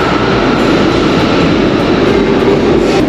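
A train rumbling through a station, a loud, continuous roar of wheels and machinery with steady rail noise and no distinct pauses.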